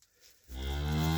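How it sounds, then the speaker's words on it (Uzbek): A Simmental cow that has just calved twins lets out a single loud, sustained moo close by after a quiet moment. "juma kuni 2 ta tug'di sigir mana"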